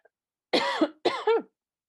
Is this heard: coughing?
yes